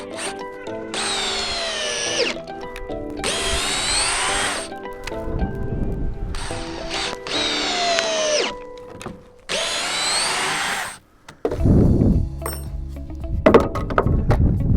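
A Greenworks cordless drill whines in several long bursts, revving and slowing as it drives a timber screw into wood, with short pauses and a clunk between runs.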